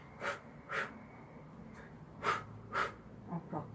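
Heavy, rhythmic breaths during an ab workout, about six distinct exhales in quick pairs, close and breathy over a quiet room.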